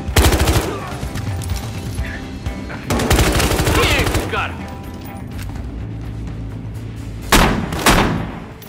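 Bursts of gunfire in the video game Battlefield Hardline, with heavy automatic volleys near the start, around the three-second mark and again near the end, ringing over a low background with brief voices.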